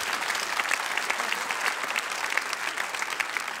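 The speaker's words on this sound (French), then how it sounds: "Applaudissements pour cette nullité." Applause from a group, a dense, steady patter of clapping hands that holds at even loudness throughout, with no voices standing out.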